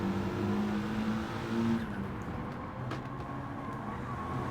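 A four-wheel-drive race car engine on racing soft tyres in the video game Gran Turismo 7, a steady droning engine tone with held pitches that shift midway, fairly faint and without talk.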